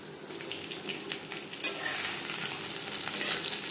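Fish fries in hot oil for a crispy Bengali fish fry, giving a steady close sizzle with crackling bursts and a louder spike midway. No voices are heard.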